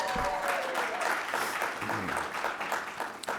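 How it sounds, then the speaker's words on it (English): Applause from a summit audience, a dense patter of clapping filling the room, with some crowd noise and a voice or two mixed in. "So let's give our staffs a big round of applause."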